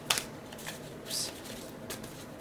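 A deck of playing cards being shuffled, short crisp riffling bursts with a few soft flicks and snaps over about two seconds, close and fairly quiet, no talking.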